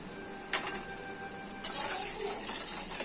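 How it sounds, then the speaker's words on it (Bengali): A spoon scrapes and clinks against a pan as potatoes are mixed with salt for Bengali aloo posto, light stirring taps and a soft sizzle underneath, close and unhurried. "এখন ভালো করে লবণটাকে আমি আলুর সঙ্গে মিশিয়ে নিচ্ছি।"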